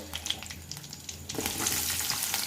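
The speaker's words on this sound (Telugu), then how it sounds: "ఆయిల్ వేడెక్కాక జీలకర్ర, కచ్చపచ్చిగా దంచిన వెల్లుల్లి రెమ్మలు" Cumin seeds and crushed garlic fry in hot oil in a kadai, a quiet crackling sizzle that suddenly grows fuller and louder midway as the garlic hits the oil, with no talking.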